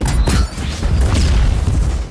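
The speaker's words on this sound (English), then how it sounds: "The nuclear explosion consumes the Alpha and all the small monsters of the Mariana Trench." A nuclear explosion deep in the Mariana Trench, set off from a drilling rig's core: a loud, sustained low-frequency boom and rumble with crashing debris, filling the whole stretch with no letup.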